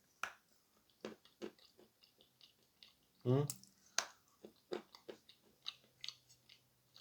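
Grey pearl edible clay bitten near the microphone, a crisp crunchy snap followed by soft chewing and crumbling, with a few brief quiet sounds before and after in an otherwise quiet room.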